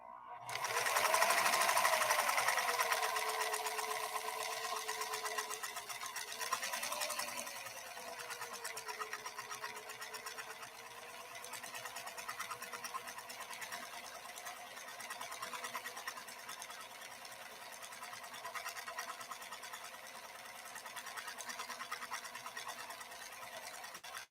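A PFAFF 332 sewing machine runs steadily through a stitch, a close, loud whirring hum with a rising start and a brief dip, then continuing evenly.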